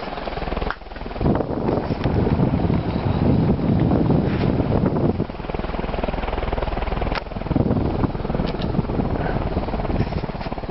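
An Evergo 48-inch ceiling fan with curved industrial spinner blades runs at high speed, giving a steady loud whooshing roar of moving air that holds throughout with only slight fluctuations.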